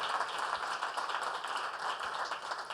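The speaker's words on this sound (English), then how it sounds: "Can we give all of them a round of applause?" Conference audience applauding presenters at a law profession event, a steady patter of many hands clapping at moderate distance, even and sustained without voices.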